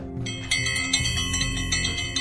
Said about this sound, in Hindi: अचानक घंटियां फिर बज उठीं